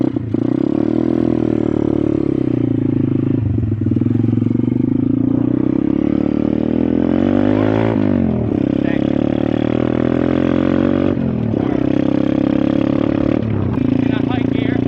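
Welsh pit bike 125cc engine, loud and close, droning steadily and then dropping and rising in pitch several times as it changes gear. A rider talks over the engine throughout.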